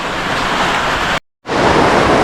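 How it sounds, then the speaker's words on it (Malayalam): Heavy night rain pours down with big drops in a gusty wind, a loud, dense, steady roar close by that cuts out briefly partway through before resuming just as strong. "സംഭവം മഴ നിസ്സാര മഴയല്ല,"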